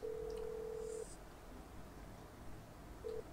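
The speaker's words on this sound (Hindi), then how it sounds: "अब लेस्टर को फोन करके बता देते हैं" A phone dial tone in the video game GTA 5, a steady tone held for about a second and then a short second burst, with faint game background between.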